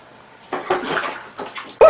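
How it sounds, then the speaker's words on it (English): A cat thrashes in water after falling into a toilet, giving a few short, close splashing bursts in quick succession, ending in a sharper splash. "You just fell in the toilet!"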